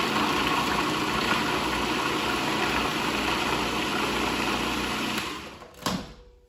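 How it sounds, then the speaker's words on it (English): A food processor whirs steadily as it chops whole peeled garlic cloves, a continuous high motor buzz that runs for about five seconds, then winds down with a brief clatter at the end. "You're going to let the food processor do all the work for you"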